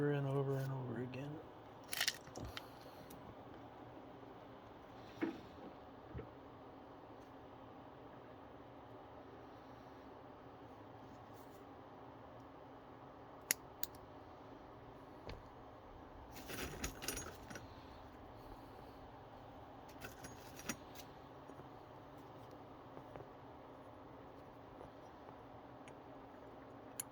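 Small plastic track links for an RC4WD DXR2 scale dozer snap together in sparse, sharp clicks, with quiet handling noise between them and a short clatter around the middle.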